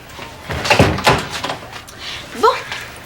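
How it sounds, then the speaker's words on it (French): An office door is pushed shut, giving a couple of wooden thunks and a firm closing knock at close range, with a voice speaking briefly nearby. "Tu peux fermer la porte, Rose?"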